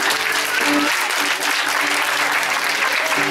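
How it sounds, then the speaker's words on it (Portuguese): A church crowd claps loudly and continuously, dense applause filling the space, with faint musical tones underneath. "levanta a tua mão e aplaude o nome de Jesus"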